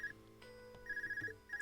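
A handheld communication device ringing in the video game Trails of Cold Steel, a bright electronic trill repeating in short bursts with pauses between, clear and close over a quiet game background.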